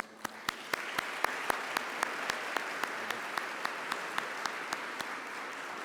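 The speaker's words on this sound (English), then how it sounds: "let's give a round of applause for our panelists" A symposium audience on affordable housing applauds its panelists with sustained clapping, sharp individual claps standing out in a regular pattern over the steady wash of hands, with no talking.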